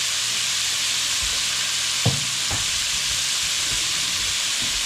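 Onion, celery and bell pepper fry in a pan of bacon and sausage drippings, a loud steady sizzle and hiss with a couple of soft knocks partway through, no voices.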